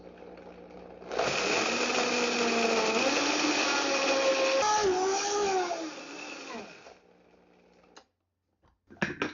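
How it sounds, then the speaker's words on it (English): A Vitamix blender grinding raw almonds into almond meal, a loud motor roar starting abruptly with pitch shifting as the nuts break down, then stopping, followed by a few brief knocks. "we're going to go ahead and throw it right back on the Vitamix and do it again"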